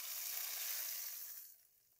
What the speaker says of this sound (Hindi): हल्का सा हमारा ज़ीरा फ्राई होगा।